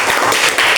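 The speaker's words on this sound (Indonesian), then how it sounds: "tepuk tangan buat kelompok terakhir" A classroom applauds the last presentation group, a short burst of dense, loud clapping from many hands close by, heard on its own without voices.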